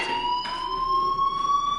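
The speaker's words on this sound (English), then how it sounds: "Hey, do you hear that fire alarm?" A fire alarm rings steadily in the video game Life is Strange, a continuous electronic tone held throughout at moderate loudness with no talk over it.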